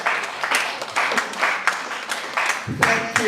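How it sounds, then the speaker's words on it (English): Scattered applause for Rotarian St. Riemann at a Rotary club gathering, with rhythmic bursts of clapping from a small group, fairly close and moderately loud, and a voice briefly heard near the end. "A round of applause for St."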